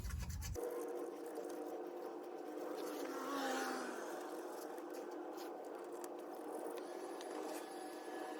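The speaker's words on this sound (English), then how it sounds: "once you're done scraping off your surface, just go ahead and give it a little wipe down" A scraper works old gasket material off the flat mating surface of a Jeep JK differential, giving a faint, continuous rasping scratch that runs steadily for several seconds, close by and with no talking.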